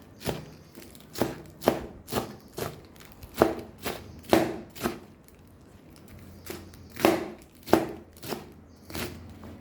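A knife chops iceberg lettuce leaves on a board for a mango salad in steady, crisp strokes, close and fairly loud, with a short pause midway before the rhythmic cutting resumes.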